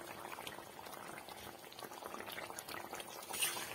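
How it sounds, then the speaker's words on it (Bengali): Broth bubbles at a rolling boil in a pot of Bengali cabbage bora curry, a dense, soft burble of popping bubbles that stays steady and fairly quiet, rising slightly near the end. "ঝোল দেওয়ার আর 2 মিনিট পর এই যে উতলে গেছে"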